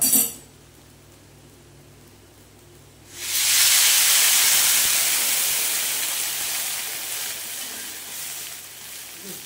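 After a quiet moment, a loud burst of sizzling hiss erupts as water hits a hot pan, then slowly fades while continuing steadily.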